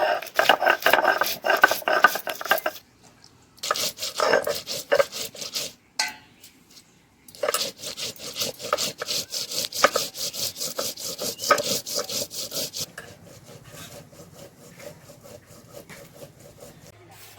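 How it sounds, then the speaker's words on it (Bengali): Coriander, dried chilli and ginger are ground together on a stone grinding slab, producing close, rough, rhythmic scraping strokes in bursts with short pauses between. "এটা দিয়ে আমি একসঙ্গে বেটে নেব, এই মাছটা মাখাবো বেটে নিয়ে। তা আমি শিলে বেটে নিচ্ছি এখন।"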